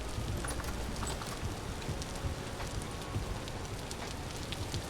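Steady rain pattering outside a house in the game Vintage Story, a dense continuous hiss with scattered drop ticks, muffled as if heard from indoors, with no voices.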